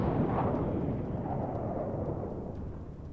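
Heavy naval gunfire and shell explosions from the Montana battleship in World of Warships boom out as one deep, rumbling blast that slowly fades over a few seconds, with no talking.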